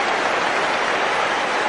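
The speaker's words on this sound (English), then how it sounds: "We get a huge applause here from the crowd." Crowd applauding at a cricket Test match in England, 2011, a dense, steady wash of clapping that fills the whole moment at even loudness with no pauses.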